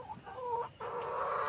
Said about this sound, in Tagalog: mga Rhode Island na manok